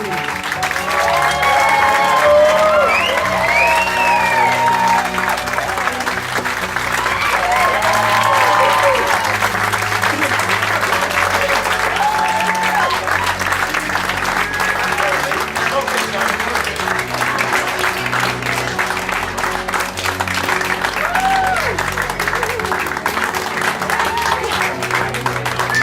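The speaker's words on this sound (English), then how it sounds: "Round of applause, please." Wedding guests in Derry applaud the bride and groom with sustained, even clapping throughout, while voices murmur and talk beneath it.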